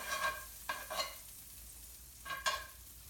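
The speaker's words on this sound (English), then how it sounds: "I hear a slight sizzle, which is what I want." Butter melts in a frying pan with a faint, gentle sizzle, broken by a few short scraping stirs spaced across the quiet clip.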